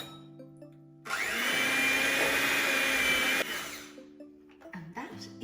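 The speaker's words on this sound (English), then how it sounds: "it's time to get my mixer out. I might even turn it on this time" Electric hand mixer beating chocolate orange traybake batter: a loud, steady whirring motor hum that starts abruptly, runs for a couple of seconds, then cuts off, followed by quieter clatter.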